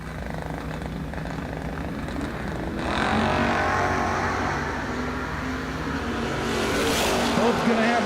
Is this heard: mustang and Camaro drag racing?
yes